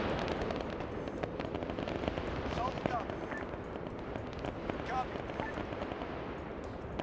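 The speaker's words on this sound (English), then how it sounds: "so they hear the shots back there" Scattered gunshots in the military shooter game Arma, sounding as sharp, uneven cracks and short bursts at a moderate distance over a steady rumbling background, with talk running beneath them.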